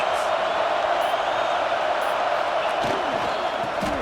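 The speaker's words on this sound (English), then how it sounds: "This crowd trying to make life miserable for this offense." Home crowd at an NC State versus Duke college football game, a continuous loud roar of massed voices filling the stadium, with a few faint whoops and thuds rising above it.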